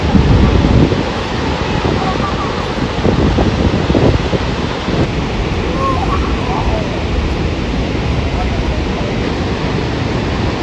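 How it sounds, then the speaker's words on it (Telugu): Rushing water released from Srisailam Dam roars steadily and loudly, a broad continuous wash with wind buffeting the microphone at the start. "వాటర్ అయితే చాలా స్పీడ్గా వచ్చేస్తున్నాయి బయటికి"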